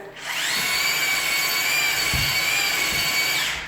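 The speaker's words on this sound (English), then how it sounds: "I like to put the drill on 45s, all work around the bucket" A power drill whirs steadily at high speed, mixing thick drywall mud in a bucket, with a few soft knocks underneath the continuous motor whine.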